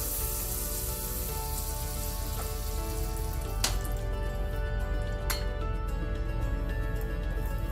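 Butter sizzling steadily in a hot pan, a constant crackling hiss with a couple of sharp metallic clinks from utensils.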